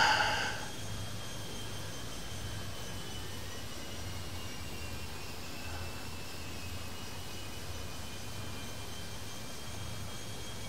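Jet airliners taking off at an airport in the AM3D airport management video game, a steady distant engine roar and rumble that holds evenly throughout, with a brief louder burst at the very start.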